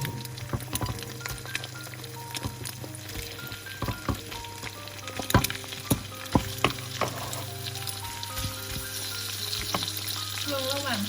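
Large shrimp frying in hot oil, a dense continuous sizzle with frequent sharp crackles and pops, fairly close, over a steady background hum and without talk.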